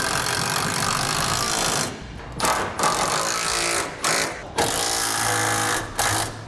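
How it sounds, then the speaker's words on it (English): Ratchets with 3/4 inch sockets and wrenches tighten bolts on a B and W fifth wheel hitch in a 2004 Chevrolet Silverado bed, with loud, rapid, continuous clicking in several runs broken by brief pauses. "Now we'll start to tighten up all of our hardware,"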